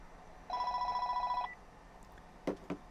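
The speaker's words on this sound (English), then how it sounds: "of course, the phone rings." A telephone rings inside an RV during a storm, sounding as a single electronic trill of rapid pulses lasting about a second, followed by a couple of short knocks.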